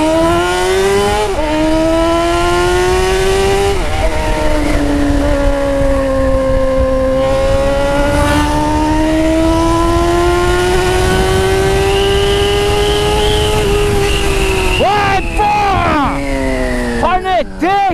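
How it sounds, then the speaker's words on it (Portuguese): A Honda Hornet motorcycle with a cut exhaust header revs loudly up close, its raw, rasping exhaust note rising and falling through several sustained throttle pulls, ending in sharp blips. "essa moto está com coletor cortado"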